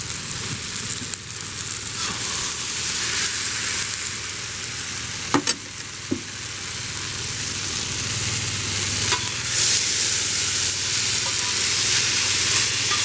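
A hot pan of Asian carp fajitas sizzles loudly and continuously, a broad crackling hiss with a couple of sharp pops and clinks partway through; no voices.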